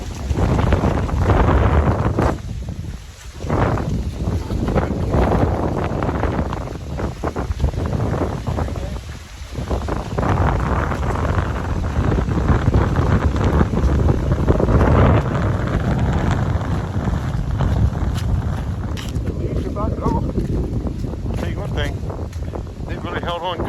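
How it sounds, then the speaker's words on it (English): Strong autumn wind gusts at a camp along the Virginia Creeper Trail, roaring and buffeting the microphone in a loud, continuous rumble with brief lulls, while a voice speaks now and then. "Wind is really picking up."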